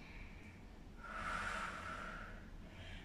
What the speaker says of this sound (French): On fait une dernière respiration.